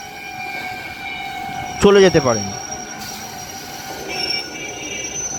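A Dankuni local train runs on the chord line toward Dankuni near Bali Halt. A loud horn blast rises over a steady rumble of rolling carriages, and someone talks over it.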